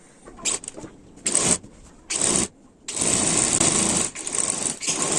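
A sewing machine stitches a miyani (gusset) seam in a salwar, in short bursts of whirring needle runs broken by pauses, then a longer steady run, close and alone.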